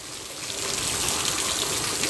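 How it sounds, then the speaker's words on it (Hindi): Heavy rain pouring down outdoors, a dense steady hiss with splashing water that swells slightly and then holds loud and close, with no talking over it. "बारिश आ रही है पूरी तेज़"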